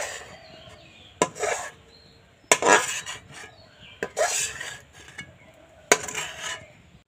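A pot of homemade tomato sauce is taken off a stove with four sharp metallic clanks and knocks spaced through the moment, separated by soft scraping, close and fairly loud, with no one talking.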